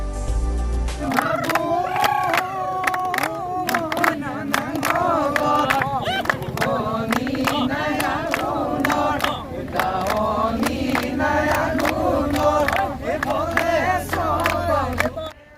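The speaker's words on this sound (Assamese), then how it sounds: "ফলাফলৰ পাছতে প্ৰাৰ্থী সমৰ্থকৰ বিজয় উল্লাস।" Supporters celebrate an independent candidate's student union election win at a college in Moran, a loud crowd of shouting, chanting voices with bursts of cheering and clapping throughout, close and energetic.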